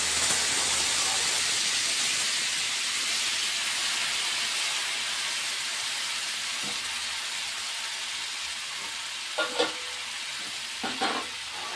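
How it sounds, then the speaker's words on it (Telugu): Tamarind juice hits a hot pan for tamarind pulihora, setting off a loud, continuous sizzle and steamy hiss that fades slightly, with a few brief utensil clatters near the end. "ఇప్పుడు మనం ముందుగా కలిపి పెట్టుకున్న చింతపండు రసంని దీంట్లో పోద్దామండి."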